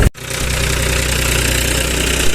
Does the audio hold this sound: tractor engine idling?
yes